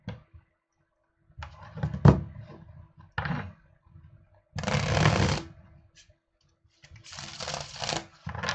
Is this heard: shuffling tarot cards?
yes